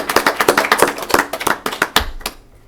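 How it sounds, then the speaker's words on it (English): Applause at a city council meeting in Cadillac, brisk overlapping claps from a modest crowd, fairly close and steady, that trail off into a few last scattered claps. "thank you for that applause"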